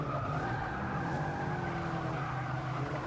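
A racing car in Forza Motorsport 6, a lightweight James Bond Toyota on a track, drones along with a sustained engine tone while its tires squeal and skid through a corner, loud and continuous with no talking.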